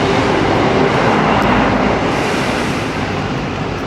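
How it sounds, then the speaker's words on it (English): Freight train rumbling past in the background, a steady broad roar that holds through the whole stretch and eases off slightly toward the end. "We just got a freight train going past in the background."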